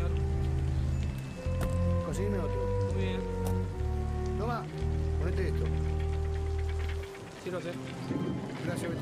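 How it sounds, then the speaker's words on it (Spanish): Steady rain falls and patters on surfaces throughout, a constant wash of drops heard under a low musical score, with brief voices and scattered drips near the end. "Es una normalidad esta lluvia"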